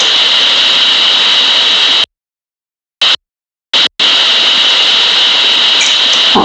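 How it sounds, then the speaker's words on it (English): A laptop's cooling fan roars as a loud, steady, close whir, cutting out abruptly twice before resuming at full strength. "The noise is related to the fan of my laptop."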